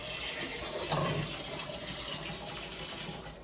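Cold water running from a tap, a steady close rush and splash into a sink, continuous and alone with a faint rise near the start.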